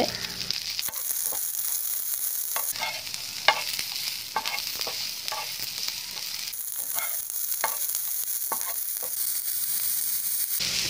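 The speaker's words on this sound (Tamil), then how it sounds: "சின்ன வெங்காயத்தை சேர்த்து நல்லா வதக்குறேன்." Small shallots sautéing in a pan for an egg omelet adai, a steady close sizzle running throughout with scattered stirring clicks and scrapes, one sharp knock near the middle; no talking.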